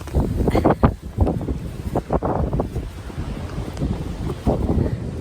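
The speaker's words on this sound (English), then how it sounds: "I'm sorry if the wind is kind of loud" Loud outdoor wind buffeting the microphone in irregular gusts, rough rumbling bursts that rise and fall throughout, with no one speaking.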